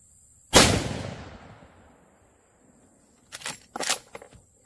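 A Rossi 95 Trapper lever-action rifle fires at an outdoor range, one sharp loud report ringing off into a long decay, then after a pause two softer quick cracks close together, with no talk.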